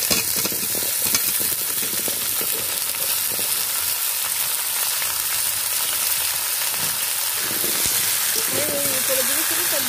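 Pumpkin, Malabar spinach, potato, tomato and green chilli fry together in oil with a loud, constant, rain-like sizzle and occasional stirring clatter. A voice briefly speaks near the end.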